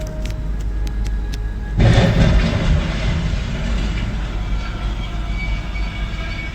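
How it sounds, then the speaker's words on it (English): A heavy Union Pacific freight train roars past close by at a railroad crossing, its loud rumble surging in suddenly and rolling on with steady rattling. "an oncoming Union Pacific train was unable to slow or stop in time"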